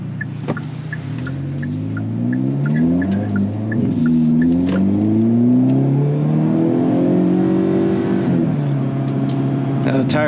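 A Hyundai Kona N's engine revs loud and close while driving, its pitch climbing and falling through the gears and held high at the end, with faint tire noise.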